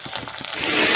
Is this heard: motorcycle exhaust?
no